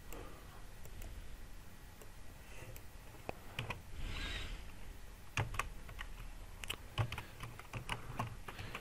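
A search query typed on a computer keyboard, with faint, irregular key clicks scattered over a low background hiss and no talk.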